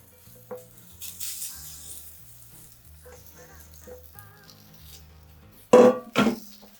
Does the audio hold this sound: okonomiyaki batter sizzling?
yes